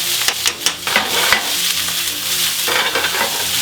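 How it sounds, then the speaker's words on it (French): Onions sizzle loudly in a pan as they are turned and spread to caramelize, with the steady hiss of frying broken up by several scraping stirs close by. "On retourne et on va les faire caraméliser"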